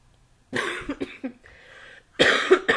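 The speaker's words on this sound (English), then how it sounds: "Excuse me, I have a cough." A few sharp, rough coughs in quick bursts, close up, separated by a short pause and a faint throat noise.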